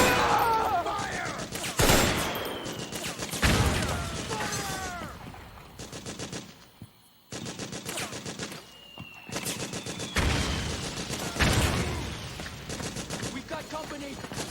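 Heavy gunfire crackles through a Metal Gear Solid 4 battle, with loud bursts of automatic fire and rapid volleys mixed with shouted voices and battlefield noise across the whole stretch, briefly dropping to a lull midway.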